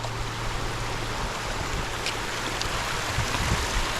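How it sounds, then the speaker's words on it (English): A flowing creek at a trail crossing on the way to Bearden Falls in North Georgia, a steady broadband rush of water that stays constant and fairly close throughout, with no voices. "we're coming up on creek crossing 5 or 6, something like that"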